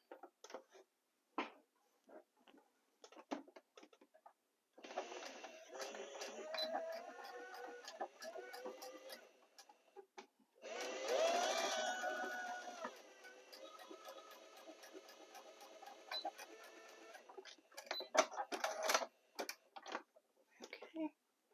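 A sewing machine stitches a fleece glove with a 3.5 millimeter straight stitch, a close rapid mechanical rattle in two long bursts, with soft handling clicks and rustles between them.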